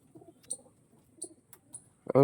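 Lively pigeons give soft, low coos and wing rustles at close range, ending in a louder burst, with someone talking over them.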